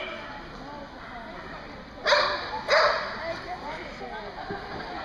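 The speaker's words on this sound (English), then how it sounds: "Nice looking dog." A dog gives two sharp barks in a noisy outdoor setting, heard close by over a steady hum and background chatter.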